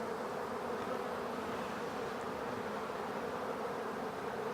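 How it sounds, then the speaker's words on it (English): A honeybee swarm hums steadily and continuously as it moves down into a hive box, a dense, even buzz with no voices over it. "So you can see the bees up on the cluster there."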